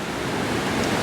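River water in Glen Etive rushes continuously as a broad, steady wash of noise, close and fairly loud, with no voices over it.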